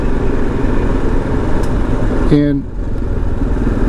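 Motorcycle cruising slowly at about 30 on a Smoky Mountains trail ride, a steady low engine drone close by under a rider's talk, with a brief tonal blip near the middle.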